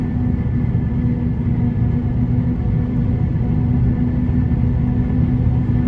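Forage harvester chopping maize and loading a trailer mid-field, a loud, steady low rumble with an even engine drone throughout and no break.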